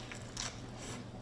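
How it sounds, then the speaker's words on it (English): A single crisp bite into crunchy fried crappie fish, a short faint crackling crunch heard up close against quiet background. "When you bite, you're not pulling pieces out, you bite right through it."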